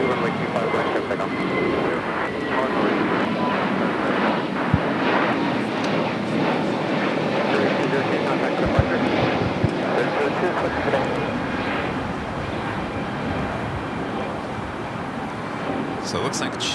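Jet airliner on its takeoff roll from runway 25 right at LAX, a broad sustained engine roar that stays loud and even throughout, with wind buffeting the microphone and a few sharp clicks near the end.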